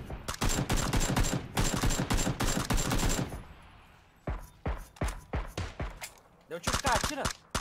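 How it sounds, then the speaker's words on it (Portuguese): Rapid bursts of automatic gunfire from the video game Battlegrounds, loud and close at first, then scattered single shots, then another quick burst, with players talking intermittently. "Deu um tiro, cara, atira!"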